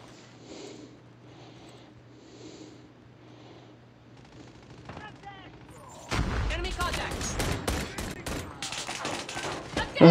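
Akimbo .50GS pistols firing in a video game, a rapid burst of loud, dense gunshots after a quieter stretch, with someone talking faintly underneath.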